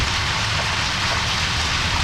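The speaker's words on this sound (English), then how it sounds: "Rain." Steady, dense rainfall in the video game Deadly Premonition Origins, a continuous broadband hiss of rain on surfaces filling the whole stretch at an even, fairly loud level with no voices.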